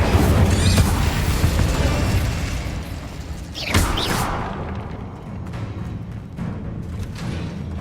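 A booming Bombarda spell blast from Hogwarts Legacy, a loud low explosive rumble with a sharp swooshing burst near the middle, fading under ongoing game ambience.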